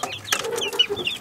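Young hens cluck close by in a poultry yard, a quick run of short, bright clucks and chirpy calls from a few birds, with no talking.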